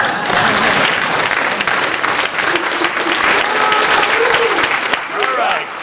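Audience at a YouthBuild 35th anniversary event breaks into loud, sustained applause, dense clapping filling the room steadily for several seconds with a few voices calling out underneath.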